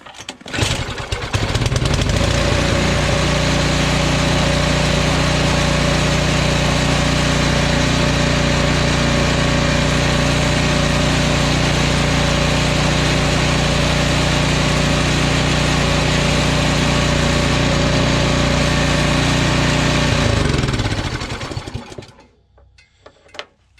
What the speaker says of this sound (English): That's how you start your Powersmart snowblower.